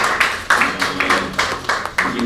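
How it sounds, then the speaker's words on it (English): Audience applause for a presenter at a talk, heard as a few sparse, separate bursts of clapping that rise and fade across a couple of seconds. "Round of applause for her once again"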